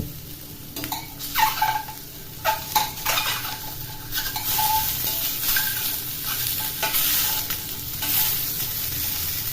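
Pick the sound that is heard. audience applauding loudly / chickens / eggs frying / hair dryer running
eggs frying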